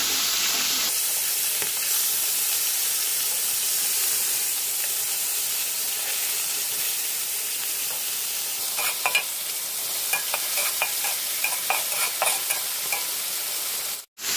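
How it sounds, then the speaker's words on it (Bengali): Pieces of fresh rohu fish fry in hot oil alongside browning onions in a home kitchen pan, giving a steady close sizzle throughout with faint stirring scrapes and a few crackling pops near the end, no talking. "মাছ ভাজা হয়ে গেছে, চুলা বন্ধ করে দিলাম।"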